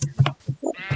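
Sheep bleating in Minecraft: a few short, nasal baa calls in quick succession, close and clear, with a brief thump among them.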